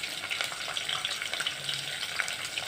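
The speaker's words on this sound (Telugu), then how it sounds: "ఇందులోనే కొద్దిగా కరివేపాకు వేసి ఇవన్నీ బాగా వేయించుకుందాం" Crushed garlic cloves frying in hot oil for tomato rasam, a soft continuous sizzle with small crackles and pops, close and quiet.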